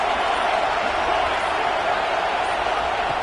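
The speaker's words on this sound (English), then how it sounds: "this home crowd is fired up and ready to make a difference today" Home crowd cheering in the college football video game CFB 26, a dense, steady stadium roar filling the scene at constant loudness, broadband and unbroken throughout.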